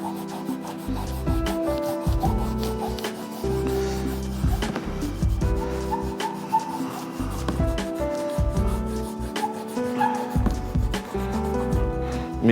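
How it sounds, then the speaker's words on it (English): Pencil guidelines on a cartoon drawing being rubbed out with an eraser, a steady close scrubbing of rubber on paper with rhythmic back-and-forth strokes and brief pauses. "Rub out all the guidelines."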